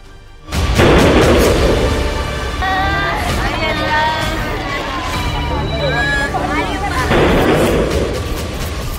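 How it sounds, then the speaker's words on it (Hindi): A loud sudden boom bursts in, likely a gas cylinder explosion in Bulandshahr, followed by a sustained roar of chaotic noise, shouting and screaming voices, with a second heavy blast near the end. "एक जोर का धमाका होता है और उसके बाद तो चीख पुकार मच जाती है।"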